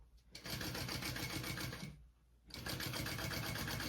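Sewing machine top stitching through a bag seam and its extra layers of material, running in two loud, steady bursts of rapid stitching separated by a short pause.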